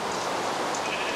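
Rain falls steadily in a video game, a continuous soft hiss of drops that stays even and unbroken throughout.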